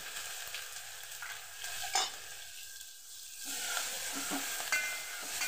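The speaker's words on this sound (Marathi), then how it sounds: "ती परतून घ्यायची आपण चांगली तेलामध्ये. छान अशी परतून घ्यायची." Cumin, mustard seeds, curry leaves and crushed green chilli sizzle in hot oil, with a continuous close frying hiss and a few sharp stirring clinks, no voices.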